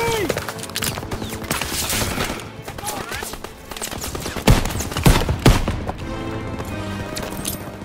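Bursts of rapid machine gun fire from a hayloft MG during the Call of Duty WW2 D-Day beach assault. Sustained rattling volleys build to several sharp, loud cracks near the end, with voices shouting over the battle.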